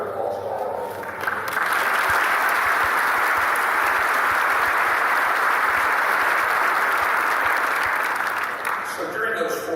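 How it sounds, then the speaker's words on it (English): A large audience at a Texas state trooper trainee graduation ceremony breaks into dense, sustained applause that rises quickly and holds steady, filling the hall before easing slightly at the end. "I want to give a big round of applause to all of you."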